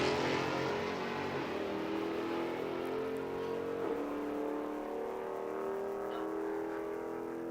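Engines of a Dodge Ram pickup truck and a Dodge Charger at a drag strip, roaring as they launch and accelerate, with revving engine tones shifting and fading over several seconds.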